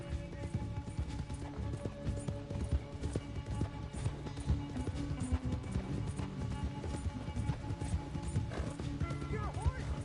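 A horse gallops in the video game Red Dead Redemption 2, with a rapid, steady drum of hoofbeats close by. Harness jingles and an occasional neigh break in over a constant loud rumble.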